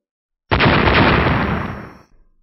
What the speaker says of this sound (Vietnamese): Một hồi âm thanh liên tục nổ ra phía dưới